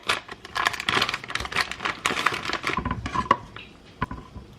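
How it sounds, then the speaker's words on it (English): A knife clacks against a cutting board while slicing sausages for a shrimp boil, giving irregular close taps and scrapes mixed with faint kitchen clatter and no talking. "I'm going to cut my sausages."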